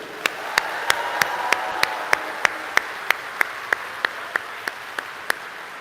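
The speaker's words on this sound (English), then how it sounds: "Let's give Elisa and the Segovia team a huge round of applause." Applause fills a welcome event for a new university class in Segovia, a broad crowd wash with a sharp, evenly spaced clap standing out on top, steady and fairly loud throughout.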